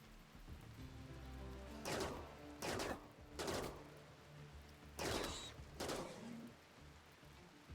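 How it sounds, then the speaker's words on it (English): Charge rifle fire in a kaiju-fighting video game: five loud, sharp bursts spaced roughly a second apart, each a broadband crack with a brief tail, over a steady low game hum. "Charge rifle go burr"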